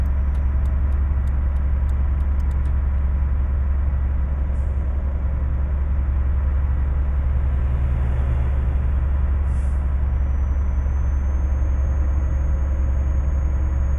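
A truck engine in the video game Euro Truck Simulator 2 drones steadily with a deep, constant rumble, brief clicks and a hiss early on, no clear rise in revs, with no talking.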